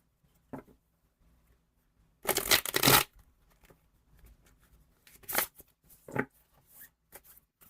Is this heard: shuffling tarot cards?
yes